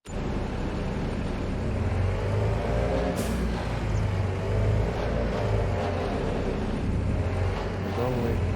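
A tractor engine in Farming Simulator 25 drives along with a steady, low mechanical drone and a continuous rumble that holds at a constant level throughout.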